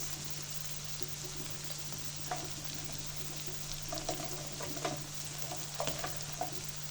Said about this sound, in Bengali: কাঁচা মশলাটা ভালো করে ভেজে নিব